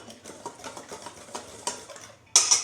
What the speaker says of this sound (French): Puis on mélange la farine avec la levure.